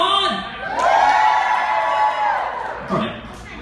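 A game show studio audience, largely kids, on Double Dare cheers and whoops in a loud burst that rises and then tapers off, with a host's voice heard briefly around it.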